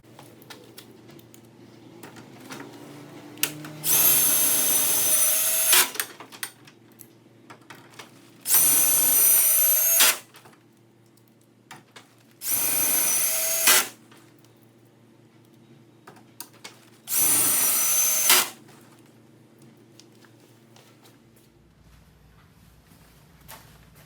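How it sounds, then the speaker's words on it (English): A power drill drives number 12, 1-inch self-tapping sheet metal screws into tough steel on a garage door, four loud bursts of a few seconds each, separated by pauses with low background hum. "going to use some sheet metal screws, self-tapping screws"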